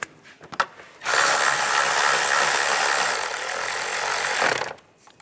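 A power driver whirs steadily for about three and a half seconds while screws and worm-drive hose clamps are tightened on a 2010-2016 Cadillac SRX engine, with a few faint clicks and taps before and after.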